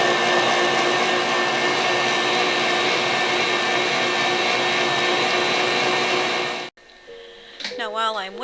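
An electric mixer beats strawberries, egg whites and sugar with a loud, steady whirring drone that cuts off abruptly near the end, followed by a voice speaking.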